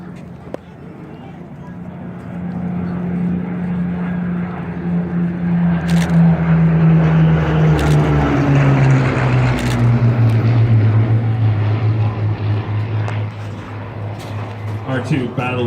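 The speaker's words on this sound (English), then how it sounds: "Our two Battle of Britain fighters, the Supermarine Spitfire and that Hawker Hurricane." Propeller engines of a Supermarine Spitfire and a Hawker Hurricane, Battle of Britain fighters, droning loudly as they pass with a falling pitch, while someone talks over the roar.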